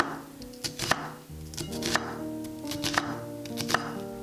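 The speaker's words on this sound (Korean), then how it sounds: "그리고 양파 2분의 1개도 채 썰어줍니다." Knife slicing half an onion into thin strips on a cutting board while making a homemade crab curry, close, crisp taps falling in quick clusters with short pauses between, no talking.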